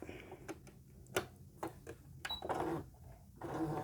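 A home sewing machine runs a quarter-inch seam on fabric for a doll beanbag chair, giving short bursts of fast, even mechanical stitching broken by brief pauses, fairly close.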